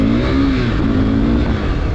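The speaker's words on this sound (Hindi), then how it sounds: "तो अपन 1 से 2 गियर तक के अपन थोड़ी सी स्पीड चेक कर लेते हैं कि क्या पावर मिलती है ठीक है" A KTM RC 390 BS3 motorcycle pulls away in first gear, its engine note loud, close and steady, with a rising harmonic whine. There is no talk.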